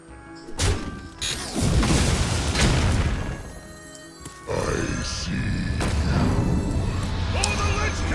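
Dr. Boom's bombs exploding in the Hearthstone video game, several heavy booms and crashing thuds one after another with grunting character voices, loud and close.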